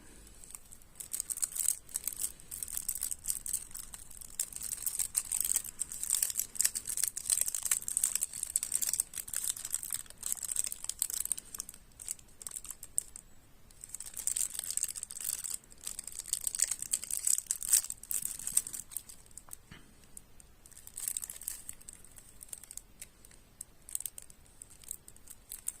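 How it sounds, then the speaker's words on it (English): Plastic wrapping being peeled and torn off a Magic: The Gathering Outlaws of Thunder Junction bundle box, with steady close crinkling and crackling throughout, done carefully and quietly with no talking. "Can I get this open without making too much noise?"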